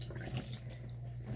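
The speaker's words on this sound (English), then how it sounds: "I'm going to put some water on it." Water runs from a tap onto a rag in a steady, soft trickle, quiet and close, with no voices.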